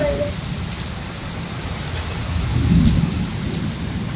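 Heavy rain pours in a dense, steady roar, and a low rumble of thunder swells partway through.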